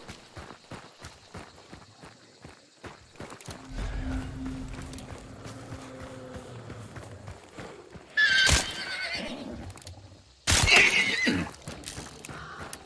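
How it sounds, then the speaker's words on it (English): In Hunt: Showdown, a spooked horse gives two loud, sharp neighs and whinnies close by, heard over a steady clip-clop of hooves and footsteps. "it'll get spooked and start neighing like that, whinnying"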